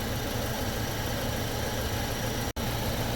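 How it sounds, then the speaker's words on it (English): An air compressor in a repair shop working on a Ford Escape runs continuously with a loud, steady mechanical drone, broken by one sharp momentary dropout near the end. "Let me turn the compressor on"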